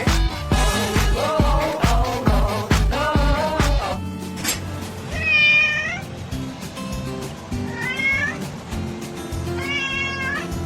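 A cat meows three times, the cries clear and fairly close, following a stretch of upbeat music that fades out.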